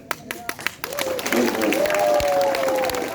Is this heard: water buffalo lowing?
no